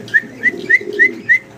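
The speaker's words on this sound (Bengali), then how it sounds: "দর্শক ভিডিও স্ক্রিনে আমরা অসাধারণ সুন্দর এক পেয়ার লাহোরি কবুতর দেখতেছি" A pair of cream bar Lahori pigeons calls in five evenly spaced soft, whistly coos, close and clear over faint background rustle.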